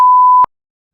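A single electronic warning beep from a supercharged 300 hp mini jetboat's control module, signaling a module error, loud and steady in pitch, lasting under half a second before cutting off to silence.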